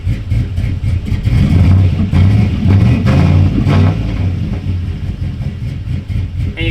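Revving from a turbocharged TBSS engine as the gas is tapped, loud and close, with repeated pulsing surges over a steady low drone.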